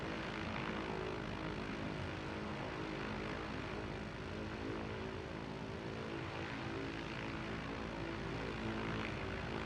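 MD-10 airliner engines in Microsoft Flight Simulator 2024 hold a steady, dense, droning roar at the runway, unchanging and fairly quiet throughout, with no voices.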